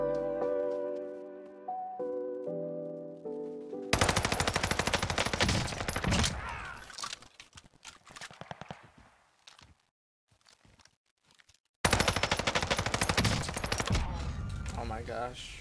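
Rapid bursts of SMG fire in Call of Duty Warzone Buyback Solos, loud and close, with Automaton and Welgun weapons, sustained automatic volleys broken by a quiet lull before firing resumes.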